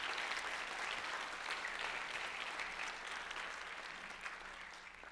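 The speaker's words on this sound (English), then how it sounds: "Let's give them one more round of applause." Round of applause from a live audience for departing guests, a steady crowd clapping wash that gradually thins and softens toward the end, with no talking over it.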